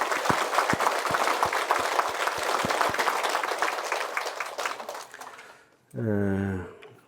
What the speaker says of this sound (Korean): 박수 한번 쳐드리고